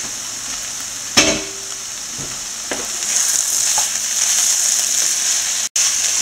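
Aviyal vegetable curry sizzles and fries steadily in a pan, with a clear clank of the spoon at the start and a few softer stirring scrapes over the constant hiss.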